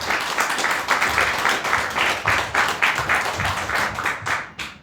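A crowd claps steadily, dense applause that stays fairly even for several seconds before tapering at the end.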